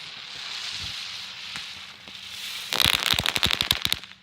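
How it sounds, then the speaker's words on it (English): Fireworks burst outdoors at a park. Faint scattered pops come first, then a rapid, loud crackling barrage of sharp bangs fills the last second and a half. "Why are we just leaving the fireworks here?"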